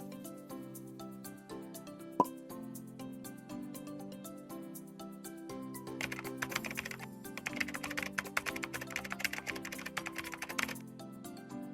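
Typing text on a computer keyboard, a quiet, steady patter of key clicks close by that grows busier and denser partway through, with one sharper keystroke early on.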